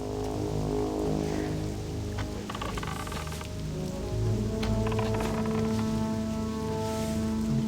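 Steady rainfall pours across a swamp in World of Warcraft Classic, a dense, even patter of drops that runs without pause at a close, moderate level, with a low ambient bed beneath and no voices.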